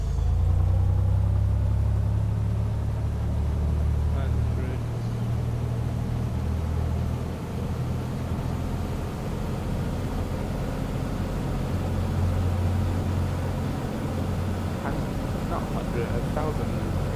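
A small single-engine plane's engine drones through a run-up in FSX flight simulator, a steady low hum with RPM shifts, under occasional talk.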